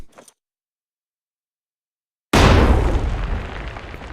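A grenade explosion on a practice range in the video game Rising Storm 2, a single loud, sudden boom after a brief silence, its deep rumble trailing off slowly.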